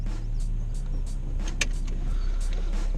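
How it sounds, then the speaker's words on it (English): A 2012 Nissan 370Z sits idling with the clutch pressed in, giving off a quiet, steady low mechanical hum from the transmission, dotted with faint clicks and ticks. "I'll pull over here and show you the transmission noise"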